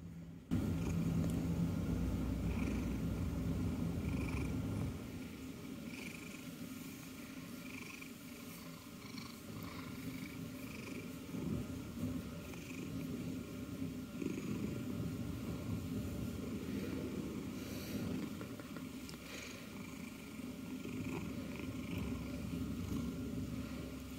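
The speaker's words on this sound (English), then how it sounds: "making me sleepy with all of his purrs" Steady, low rumbling cat purr continues close by for the whole stretch, a soft rhythmic drone with no voices.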